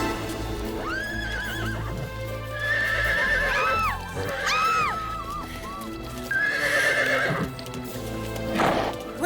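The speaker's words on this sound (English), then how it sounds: "I think it's called a horse." A horse whinnies repeatedly, its neighs rising and falling loudly over steady clip-clopping hooves, set against a busy, full background.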